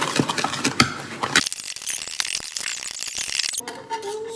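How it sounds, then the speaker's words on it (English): Fast, gritty clicking and scraping of a whisk working a cookie dough mixture in a bowl, close up and continuous, busier in the first second and a half, then steadier. "So now I'm gonna whisk."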